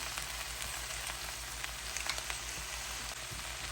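Okra pieces seasoned with turmeric and salt fry in a pan, giving a steady, close crackling sizzle with scattered pops and no voices.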